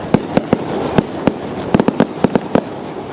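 Fireworks at a town day display in Haywards Heath, a loud rapid series of sharp bangs, some in quick clusters, echoing over a continuous crowd murmur.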